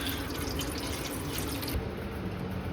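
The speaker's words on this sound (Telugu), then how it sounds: "Add some water." Water pours into a pot for cooking pasta in a home kitchen at midnight, a steady close splashing stream with dripping that runs the whole time, the flow shifting slightly partway through.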